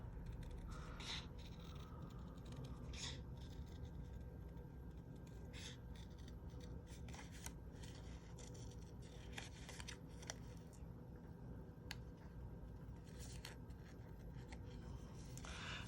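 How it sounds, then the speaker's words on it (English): Scissors cut paper around a stamped cactus flower in a quiet room, making faint repeated snips and rustles close by with no talking. "so this one we're gonna cut around this flower"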